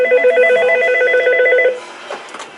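A telephone rings with an incoming call, a loud, rapid electronic trilling bell in a room that cuts off after under two seconds, followed by faint shuffling.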